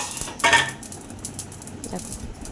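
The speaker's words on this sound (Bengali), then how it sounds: "এখন আমি প্লেটটা নিয়ে আসছি তারপর এটাকে নামিয়ে দেবো" A plate is set down and handled in a home kitchen during egg curry cooking, with one sharp clink near the start and a softer clatter later against quiet background noise.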